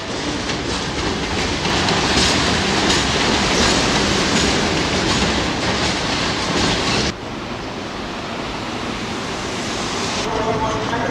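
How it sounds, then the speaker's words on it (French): A heavily loaded freight train on the Trans-Siberian line rolls past a station toward the port, a loud, steady roar of wheels and wagons throughout, with a sudden drop in level partway as the cars keep passing. "Un train de marchandises lourdement chargé passe la gare et se dirige vers le port."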